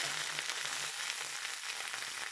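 Spinach with chillies fries in hot oil, a close, steady bright sizzle with soft crackles and faint stirring, continuous throughout the short stretch.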